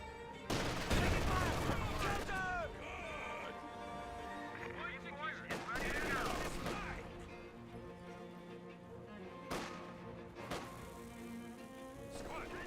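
Game battle from Company of Heroes 2, with bursts of gunfire including MG42 machine gun fire and distant thuds, heard under steady commentary throughout.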